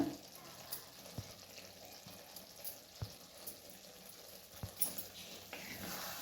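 Mixed vegetable curry with crushed peanuts being stirred in a pan, a soft continuous sizzle with scattered scraping clicks of the spoon, fairly faint and close, no talking.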